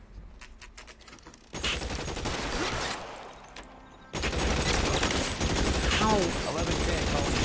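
Bursts of gunfire in the video game L.A. Noire, loud, sustained volleys that break off briefly and resume, with a player's voice speaking briefly over the shooting.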